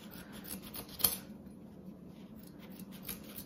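Scissors trim excess fabric while an antique dining chair is being reupholstered, with quiet rubbing and snipping and one sharp click near the start, all faint and close up with no talk.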